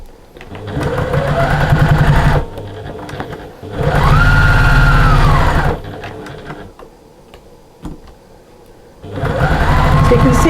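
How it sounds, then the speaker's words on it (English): A sewing machine bastes layers of fabric together for a storage caddy, with three long bursts of steady, close motor whirring separated by short quiet pauses. "all we're doing is basting all of these layers together."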